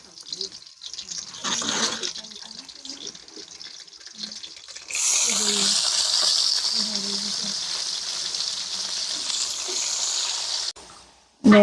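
Washed pigeon pea beans and greens tipped into a wok of roasting chilies, setting off a loud, sustained hiss of frying that continues steadily after some quieter handling noise.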